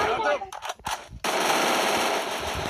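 In a video game, a few quick bursts of gunfire give way to a sustained, loud stream of rapid automatic fire that runs to the end, with a voice briefly audible at the start.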